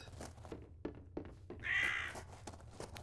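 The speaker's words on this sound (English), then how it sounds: "I hear that bird." A single drawn-out caw from a crow-like bird in the video game INFRA rises over quiet ambient noise and a few soft thumps, heard clearly but at moderate distance with no talk.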